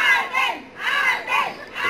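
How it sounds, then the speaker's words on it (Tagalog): A large crowd of fans screams and chants for Alden Richards at a live event, their voices rising and falling in repeated rhythmic surges, loud and close. "Sigawan ng mga fans na Alden."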